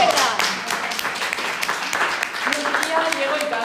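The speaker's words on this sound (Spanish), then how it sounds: "un aplauso para el equipo" A live audience at the city museum claps for a small team, a dense, lively patter of hands that runs steadily throughout, with a voice briefly audible underneath.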